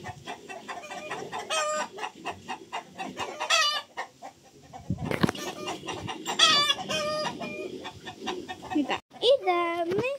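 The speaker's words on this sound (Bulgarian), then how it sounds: "ви покажа кокошките" Chickens cluck repeatedly and a rooster crows in a farmyard where a white hen and a black one roam, the calls loud and close, with a brief crow near the end and sounds of repair work in the background.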